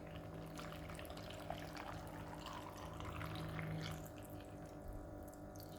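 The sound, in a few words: pouring water into juice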